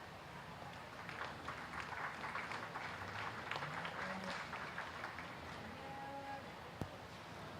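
Steady crowd applause fills the space for the Grand and Reserve champion Angus females at a county fair junior beef show, a continuous mid-distance clapping with a few faint voices underneath.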